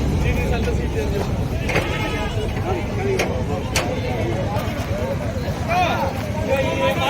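Goats bleating among a crowd at a Banjara goat market in Morampalli, a few short calls rising over steady outdoor babble, vehicle noise and nearby talking voices.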